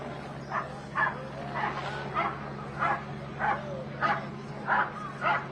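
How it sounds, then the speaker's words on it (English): A police K9 dog barks repeatedly outdoors at a protest, about eight evenly spaced barks at moderate distance over a steady low hum and crowd noise. "that barking that you're hearing. That's the police K9 unit."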